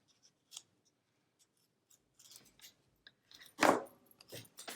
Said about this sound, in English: My scissors go. Cut this off again.